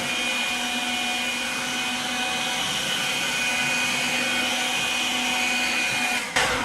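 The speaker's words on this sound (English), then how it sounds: "My husband likes to use the blower." A blower runs at full speed while kitchen cabinets are cleaned, giving a loud, steady whooshing drone with a constant tonal whine that holds for several seconds, then cuts off abruptly near the end.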